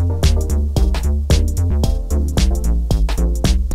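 White noise sits as a steady hiss layered beneath a full music mix, filling the gaps between punchy drum hits and chords that repeat in a steady rhythm.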